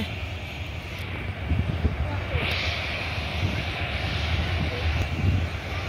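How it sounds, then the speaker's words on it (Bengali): Steady low engine rumble and broad roar of a nearby Biman Bangladesh airliner taxiing slowly at an airport, with faint wind and no talking. "বিমানটি এখন ধীরে ধীরে এগিয়ে যাচ্ছে।"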